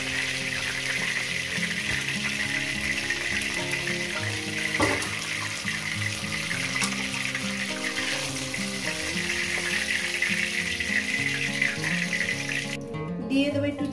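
A fish head fries in hot oil with a steady, close sizzle lasting throughout, over soft background music and with no one talking.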